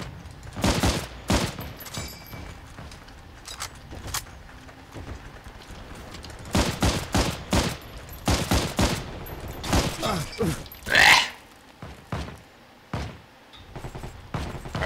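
Rapid bursts of gunfire from a first-person shooter deathmatch game, close and loud. Clusters of sharp shots repeat across the span with brief gaps between volleys.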